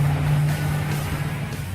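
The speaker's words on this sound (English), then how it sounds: "When you fire up the engine, of course, the cabin fills with engine sound." Koenigsegg Agera 5-litre supercharged V8 running inside the cabin, a steady deep bass drone with a strong low hum throughout, heard alone and fairly loud.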